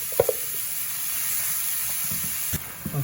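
Spring onions frying in a pan, a soft steady hiss of sizzling with a few brief clicks and knocks of a utensil, close and fairly quiet, no voices.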